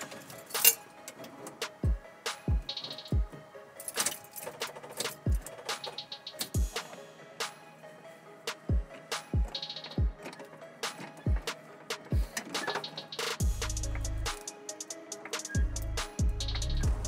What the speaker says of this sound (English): it seems like the starter solenoid is sticking